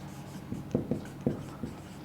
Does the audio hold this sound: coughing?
no